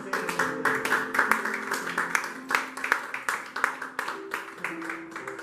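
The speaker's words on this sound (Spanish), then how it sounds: "Denle ese aplauso fuerte a Cristo." Dense, sustained applause from a church congregation, quick overlapping claps over a held musical tone, fairly loud throughout.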